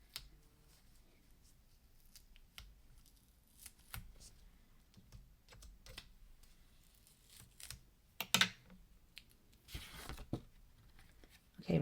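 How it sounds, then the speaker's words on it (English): Tweezers peel tape off a paper stamping project, making faint scattered scratches and a few louder ripping bursts late on, close and quiet, with brief low voice sounds in the background. "I'm going to grab my tweezers just to pull this tape off"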